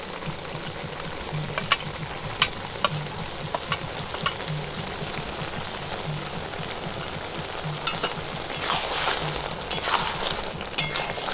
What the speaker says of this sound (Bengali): যে মাছগুলো আমি ভাগ করে রেখেছি এই মাছগুলো দিয়ে দেবো